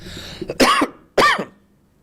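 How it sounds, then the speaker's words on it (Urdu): Two sharp, loud coughs in quick succession, close up, followed by silence. "ایکسکیوز می، تھوڑی سی کھانسی ہے"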